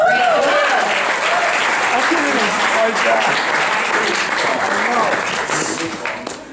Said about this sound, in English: Let's give another round of applause to Sally.